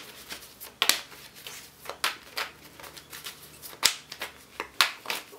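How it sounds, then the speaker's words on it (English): Tarot cards being shuffled by hand, giving soft papery riffles and brisk snapping flicks in irregular bursts, close and fairly quiet, with no voice. "So a little more shuffling here"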